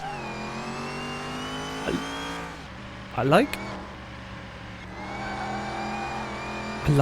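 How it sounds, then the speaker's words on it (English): A supercharged car engine in the game Car Mechanic Simulator 2021 holds a steady tone with a high supercharger whine layered on top, with a few brief rising rev bursts, and someone talks briefly over it. "There's definitely a whiny supercharger sound to it going on."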